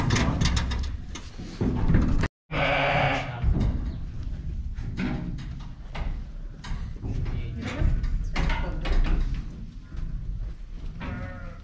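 Kangal sheep bleat repeatedly near and far in a farm pen, with clattering handling noises and people talking over the calls.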